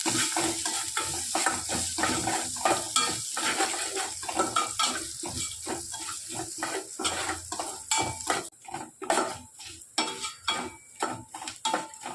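Tempering spices sizzle and fry in a pan for a coconut-free Madurai thanni chutney while a spoon scrapes and stirs in quick, repeated strokes, close up, with no voices.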